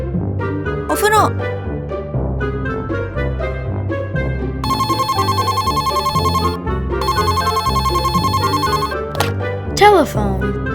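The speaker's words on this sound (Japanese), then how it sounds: "telephone" Household telephone ringing in repeated bursts of bright electronic trills, loud and near, over continuous background music.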